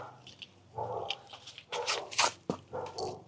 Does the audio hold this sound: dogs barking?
yes